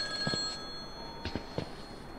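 A telephone rings in the horror mobile game Mental Hospital IV, with a few short repeated ring bursts spaced apart over a steady background hum, fairly faint and with no talking.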